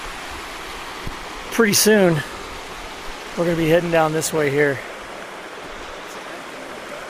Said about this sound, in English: This is the Tuolumne River heading downhill.